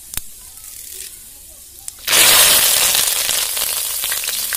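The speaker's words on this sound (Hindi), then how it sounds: "अभी तेल गर्म हो गया, उसमें जीरा डालते हैं।" Cumin seeds and curry leaves hit hot oil in a home kitchen, bursting into a loud, steady sizzle after two seconds of quiet crackle and a few faint ticks.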